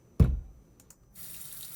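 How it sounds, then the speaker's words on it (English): A kitchen faucet: an initial knock, then after a short pause a steady hiss of running water starts, close and quiet, with no voices. "faucet,"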